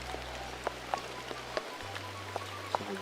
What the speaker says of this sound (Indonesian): karena kan ini teh hujan ya